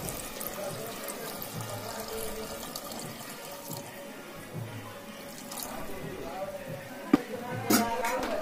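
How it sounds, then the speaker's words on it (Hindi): About 100 ml of water is poured into a pan of goat intestine (pachoni) as it cooks, making a continuous watery hiss and sizzle with a few clinks, close by and fairly loud. "सौ ml पानी ऐड करेंगे।"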